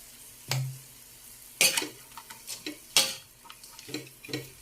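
Sautéed bean sprouts and vegetables being stirred in a pan with a utensil, several distinct scraping strokes with pauses between them, close and fairly quiet, with a faint sizzle.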